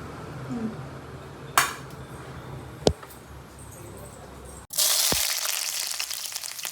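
Hot oil sizzles in a pan for methi chicken. A few sharp clinks of utensils come first, then a loud, steady sizzle bursts in close by.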